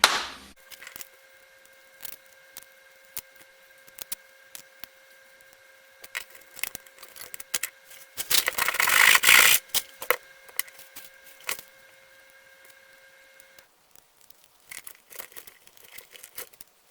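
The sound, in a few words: cutting a can of Monster energy drink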